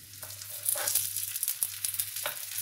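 A stuffed chicken paratha fries over a low flame, giving a soft, steady sizzle close by with a few faint crackles and light scraping taps.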